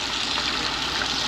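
Bath water splashing and trickling steadily as a child is bathed, a constant close wash of liquid noise without pauses or voices.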